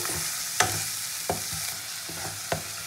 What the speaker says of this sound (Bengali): মশলাকে খুব ভালো করে কষিয়ে নেবো